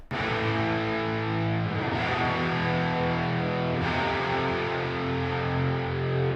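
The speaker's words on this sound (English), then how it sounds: "also the actual individual guitars have a little alter boy on it. Not for any altering, just for some drive." Layered guitars driven through an Alter Boy plugin with reverb play a dense, distorted wall of sound, loud and continuous with chord shifts roughly every two seconds.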